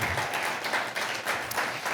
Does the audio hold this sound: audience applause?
yes